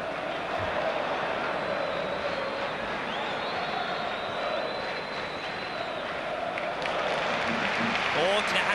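Stadium crowd at a 1994-95 Serie A football match between Napoli and Sampdoria at Stadio San Paolo, a broad sustained roar of applause and crowd noise with a commentator talking over it.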